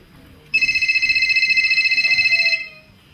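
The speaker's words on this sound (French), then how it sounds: "Téléphone." A telephone gives one electronic ring of about two seconds, a rapid warbling trill that stands out clearly against a quiet room and then stops.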